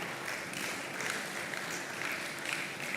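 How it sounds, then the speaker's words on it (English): A congress audience at the Africa Retail Congress 2025 claps steadily in a dense, even wash of applause, moderately faint and distant, with no voices on top. "Please keep clapping, keep clapping."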